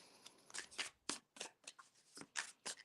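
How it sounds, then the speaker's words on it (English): A new tarot card deck is shuffled close up, giving a run of crisp, uneven riffling and slapping bursts that are quiet but distinct, with no voices. "I wouldn't be surprised if the Chariot card came out too as I'm shuffling."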